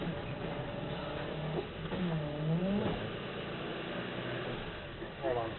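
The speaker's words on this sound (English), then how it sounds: "Now I got the tow truck down here making all kinds of noise." Tow truck engine running close by, a rough steady rumble with wavering revs and a whining pitch sweep, under bits of people talking, with a muffled, band-limited sound.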